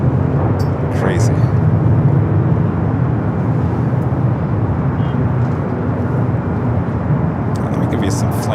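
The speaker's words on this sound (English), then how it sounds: "Sun Country Airlines in the Minnesota Gophers livery coming in from Rio Hato." Sun Country Airlines plane in Minnesota Gophers livery landing at LAX, a loud, steady jet roar with rumbling low end throughout, and a few faint clicks near the start and end.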